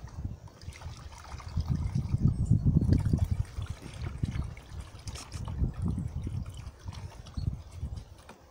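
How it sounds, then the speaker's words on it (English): Homemade ivy laundry detergent liquid being stirred around in a container, soft sloshing swirls and trickles in slow uneven waves, close and fairly quiet with no voices. "we'll try and give each one of them a stir around"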